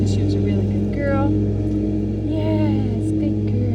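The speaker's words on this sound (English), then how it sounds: "I'm sorry for the lawnmower" Lawnmower engine drones steadily outdoors with a low constant rumble, steady in level throughout, with faint whistles or calls over it.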